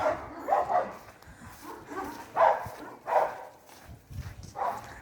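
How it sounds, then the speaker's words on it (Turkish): A dog barks and yips several times at a distance, in short, spaced bursts over a quiet background. "köpek sesi duydu"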